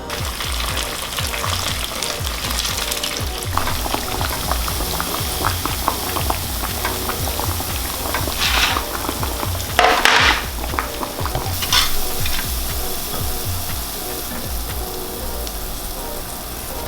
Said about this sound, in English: fry them off until they're GBD, golden brown and delicious